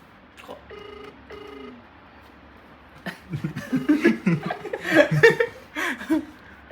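Two faint ringing tones sound on the phone line, followed by people chuckling and talking nearby.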